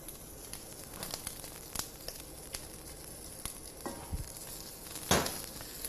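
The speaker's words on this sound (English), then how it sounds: "you can hear at the start of it that the meat is starting to cook" Chicken drumsticks sautéing steadily in a hot pan, a constant crackling hiss with scattered pops and a brief louder spatter near the end.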